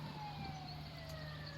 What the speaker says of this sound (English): Sirens you can hear in the background, not a good sign